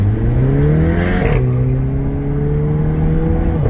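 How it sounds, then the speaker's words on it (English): Car with a modified exhaust revs and accelerates loudly up close, a gruff rising drone that breaks with a sharp pop around a gear change, then keeps pulling steadily; no talking. "Sounds mental now with the exhaust mods."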